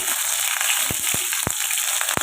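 Small batch of paneer frying in hot oil: a continuous bright hiss with a handful of separate crisp pops spaced out over a couple of seconds, close up.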